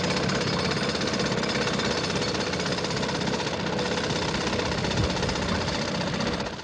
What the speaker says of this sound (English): With the first bite of the pneumatic drills, the TV cameras were rolling